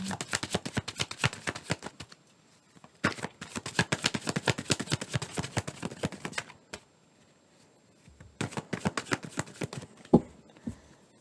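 Tarot cards riffle and snap in rapid bursts of crisp, close shuffling, broken by short pauses between rounds, with a couple of sharper taps as cards are set down at the end.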